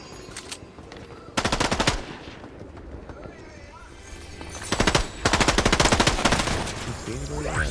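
Rapid automatic gunfire from a machine gun in the video game Fortnite, two loud sustained bursts of fast repeated shots separated by quieter game sounds and some talk.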